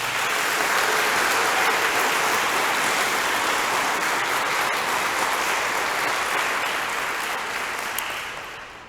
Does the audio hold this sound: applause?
yes